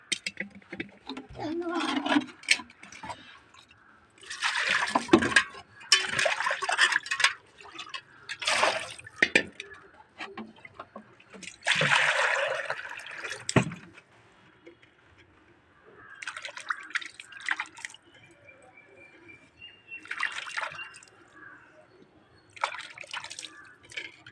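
Water splashes and sloshes in repeated bursts as fish is rinsed by hand, with quieter dripping and trickling in between.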